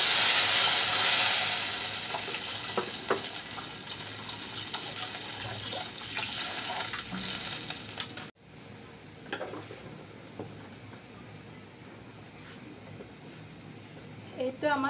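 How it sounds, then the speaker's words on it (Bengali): Spiced gravy of banana flower stem with turmeric sizzles loudly in a hot pan, then water is poured in and the hiss sharply drops to a quieter simmer, with soft stirring clinks and a voice talking underneath. "বগলির মধ্যে আমি এখন এবার দিয়ে দিচ্ছি আমি ঝোলের জন্য পানি।"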